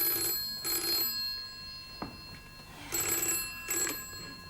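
An old-style telephone bell rings in two double bursts, moderately close, with a single thump between the rings and no talking, in a British sitcom scene.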